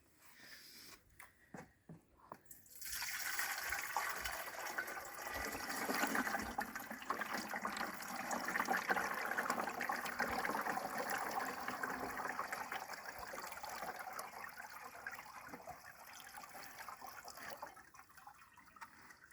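Liquid spray mixture pours steadily into the tank of a garden sprayer during spring orchard treatment, a continuous close splashing gush that starts after a couple of seconds of quiet and runs on evenly to the end.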